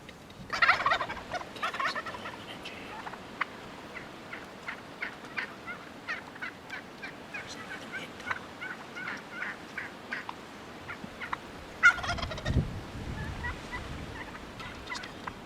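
Wild turkey toms gobble near decoys on a hunt, several fairly faint outbursts spread across a quiet outdoor background, with one louder, closer gobble near the end.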